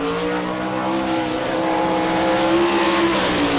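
A World of Outlaws sprint car, the number 00 driven by Jim Neer, roars loudly and steadily around a dirt track at Rossburg, Ohio, its engine note holding high and continuous with a slight pitch rise near the end.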